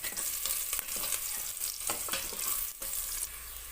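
Pork fries in a pan with onion, a dense, continuous sizzle broken by repeated scraping and stirring strokes, close and steady with no voices.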